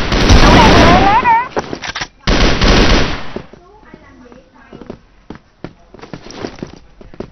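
Grenade blasts and automatic AK-47 gunfire in a bomb-defusal shooter game: loud sustained bursts of rapid fire, a short break, then scattered quieter shots and clatter, with voices talking over parts of it.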